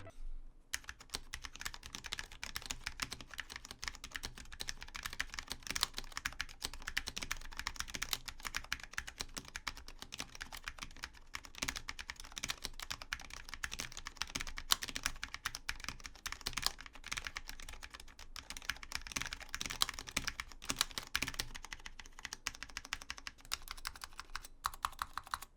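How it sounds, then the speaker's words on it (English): Steady, fast typing on a Cooler Master SK630 low-profile mechanical keyboard with Cherry MX Red switches, a continuous close stream of light clacks for about 25 seconds with no talk. "here's a quick sound test of the low-profile Cherry MX red switch on the SK630"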